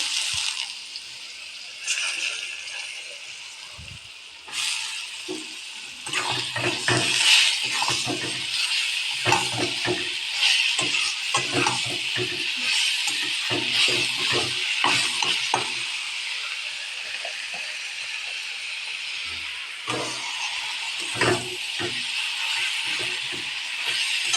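Pumpkin pieces fry in hot oil, a bright hissing sizzle that flares up as they go in, then carries on with irregular stirring scrapes and clatters close by, with no voices.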